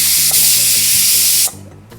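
A pressure cooker holding mutton lets out a loud, close, continuous jet of steam, hissing steadily for about a second and a half before cutting off abruptly, leaving a low background hum.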